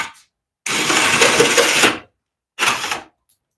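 A Craftsman drill with a Forstner bit bores a hole through a board in one loud, close grinding burst of a little over a second, followed by a shorter second burst after a brief silence.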